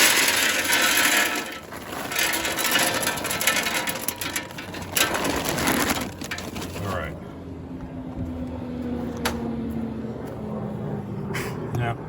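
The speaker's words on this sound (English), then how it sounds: "as I load the pellets, they'll fall down into the auger" Wood pellets poured into the hopper of a Louisiana Grills Founders Legacy LG1200FL pellet grill, a dense rattling clatter of pellets falling into the auger that thins out to scattered clicks, with a voice talking over it.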